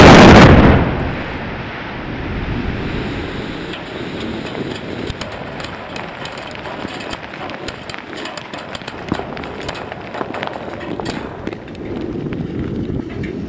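Quarry blasting to extract limestone, shale and marl for cement production opens with a sharp, loud bang, then settles into a long, rolling rumble of debris and machinery-like roar for more than ten seconds.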